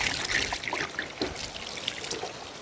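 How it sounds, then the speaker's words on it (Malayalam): Water trickles and splashes unevenly as it is poured slowly over a large fish being washed and cleaned, close and fairly soft, with small drips and spatters throughout. "മെല്ലെ ഒഴിക്കുക ലക്ഷ്മണം"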